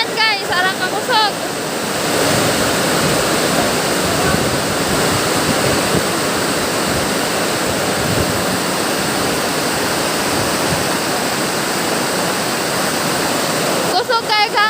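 Very heavy rain pours in a dense, loud, continuous roar up close, with a person briefly talking at the start and end.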